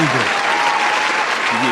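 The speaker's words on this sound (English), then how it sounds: "I got to turn the applause up for that" Applause sound effect played on a podcast, a loud steady wash of clapping that fills the short moment while a voice talks over it near the start and end.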